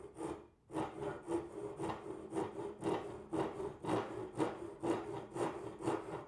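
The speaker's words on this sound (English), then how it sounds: "I'm only going to use the first inch or so of the saw on even pull strokes, very short and controlled" A Japanese pull saw cuts into wood with short, controlled strokes, giving a quick, even rhythm of rasping strokes that stays close and fairly quiet, with no talking.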